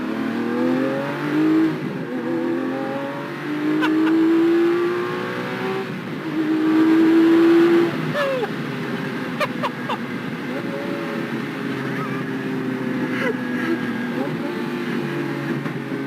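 A Lamborghini sports car accelerates hard from inside the cabin, the engine rising in pitch through repeated surges, with gear changes and steady road roar under it for about sixteen seconds.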